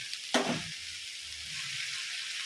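Vegetables and ginger fry in a pan, opening with a sharp clatter and splash of sizzle, then settling into a steady, moderate hiss of hot oil.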